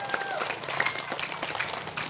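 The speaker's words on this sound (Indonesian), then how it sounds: "Tepuk tangan dulu untuk Konawe Selatan." Applause from a crowd at a political campaign roadshow in Andoolo, brief and moderately loud, with scattered claps and a few whistles or calls mixed in.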